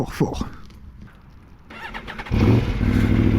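A KTM 1390 Super Duke motorcycle's LC8 engine revs and rumbles up close, building to a loud, steady roar in the second half.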